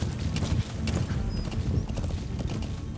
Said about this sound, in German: So treiben wir das Pferd an.